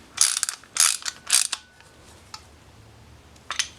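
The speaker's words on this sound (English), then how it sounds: "And then to tighten it on there, it is a 19mm socket." A ratchet with a 19mm socket snugging down a fuel pump cap during a fuel pump install on a WRX or Forester, three quick close clicking bursts followed by quiet and one short final click.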